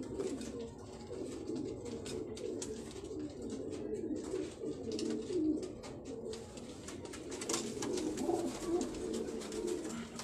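Pigeons on a rooftop loft cooing: soft, repeated low coos from several birds, steady and moderately close, with scattered chirps and faint background noise.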